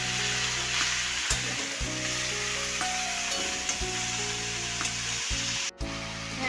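Cabbage with fish head sizzles and fries as it is sautéed in a pan, a steady close hiss broken by occasional scrapes and stirring clatters, with no talking.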